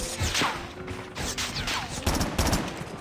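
Rapid gunfire from a Chicom weapon in Call of Duty Mobile crackles in close, loud bursts of several shots, with brief mechanical clatter between volleys.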